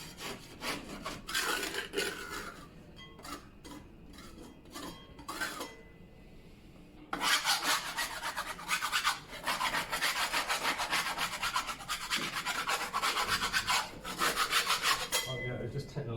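A damaged, dried-out interior wall is sanded by hand with steady rasping strokes, close and fairly loud, pausing briefly before resuming in a denser continuous scrubbing run.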